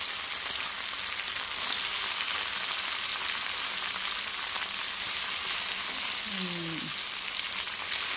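Shrimp frying in a pan, giving a steady, even sizzle that holds throughout with no pauses, close and moderately loud, and a brief faint tonal chirp near the end.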